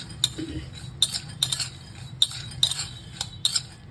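A metal spoon clinks against a bowl while soaked peanuts are mixed, six or seven sharp, bright taps spaced about half a second apart over soft stirring and scraping, close and clear with no talking.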